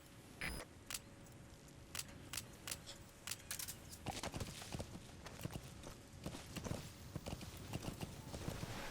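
Horse hooves clip-clop steadily across the ground in Metal Gear Solid V: The Phantom Pain, a close, regular trotting rhythm with a few sharper clattering hits and faint background ambience.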